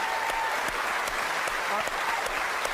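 A live studio audience at Most Haunted Live in Portsmouth claps in a steady, dense round of applause, brief and uniform, with speech faintly underneath.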